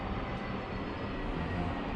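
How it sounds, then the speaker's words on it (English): An airplane flying over a neighborhood close to the airport in Mexico City, a steady broad jet roar that stays even and moderately loud for the whole stretch with no talking. "I wonder if they can hear this plane flying by."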